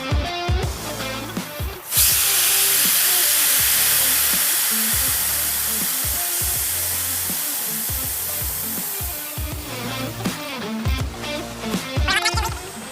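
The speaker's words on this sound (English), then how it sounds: "We're going to let the nitrogen bleed completely off" Nitrogen hissing out of a hydraulic accumulator through its loosened inflation screw, a loud steady broadband rush of escaping gas that runs for several seconds amid clanks and workshop handling noises.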